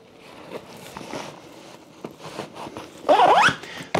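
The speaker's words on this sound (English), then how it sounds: "The bag zips on and Velcros on this one side." A zipper is run quickly along the side panel of a Mosko Moto Mule adventure roller luggage bag, giving a close, loud rasp near the end after quieter handling rustles and taps.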